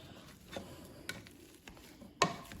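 Boiled potatoes are mashed by hand with a potato masher in a home kitchen, giving a few soft, scattered thumps and squelches close up in otherwise quiet surroundings.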